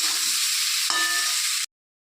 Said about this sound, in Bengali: অল্প হলুদ দিয়ে আলুগুলোকে একটু ভেজে নেব।